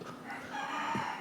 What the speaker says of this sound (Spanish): como escuchan los gallos claramente, hoy comencé a grabar de nuevo en las mañanas